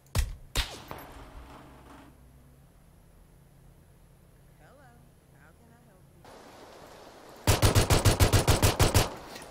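Bursts of automatic gunfire in the online shooter game H1Z1: a few sharp shots near the start, then a loud rapid burst of about a dozen evenly spaced rounds at the end, with quieter game ambience between.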